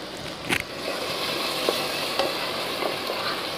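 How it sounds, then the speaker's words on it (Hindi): Grated paneer bhurji with turmeric, red chili powder and salt sizzles steadily in a pan while a spoon stirs it, with a few soft scrapes over the constant close frying hiss. "अब इसको अच्छे से मिक्स कर लें।"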